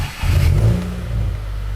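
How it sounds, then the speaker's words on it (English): A 2015–2019 Subaru WRX engine fires up on its first start after a high-pressure fuel pump install, cranking briefly before catching into a low, rumbling idle that swells slightly, close and fairly loud. "And first startup."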